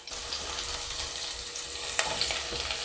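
Cut leaves sizzle in hot oil in a pan while frying for coconut mutton, a steady close hiss with a faint stir near the end, and no talking.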